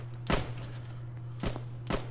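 Three sharp gunshots in the Roblox trench-warfare game Trenches, one then a pause and two more in quick succession, over a steady low hum.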